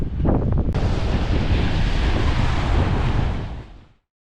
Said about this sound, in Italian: Poi con questo vento vengono tutti questi kite surfisti.